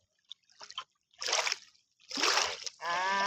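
Splashing and dribbling water as a live eel is dipped into it, short sloshy bursts close by, with brief human voice sounds between them.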